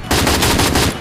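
Rapid automatic gunfire in a video game, a short loud burst of closely spaced shots lasting under a second.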